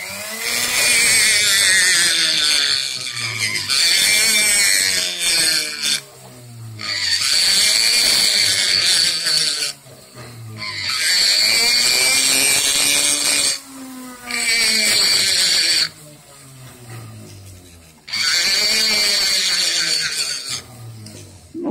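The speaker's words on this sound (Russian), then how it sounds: "Сейчас буду показывать чуть-чуть, как фрезой убираю край, чтобы выровнять." A milling cutter trimming the edge of a carved knife handle, heard as loud, sustained rasping, whining passes that repeat in long bursts with short pauses between them.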